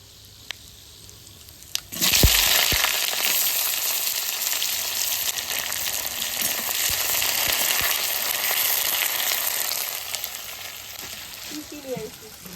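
Sliced onion hits hot oil seasoned with dried red chilli, bay leaf, whole garam masala and cumin, bursting into a loud, steady sizzle right after a clack and hissing continuously until it fades slightly near the end.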